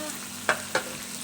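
A utensil stirs spaghetti frying in a pan over a quiet background sizzle, with two short scraping strokes close by.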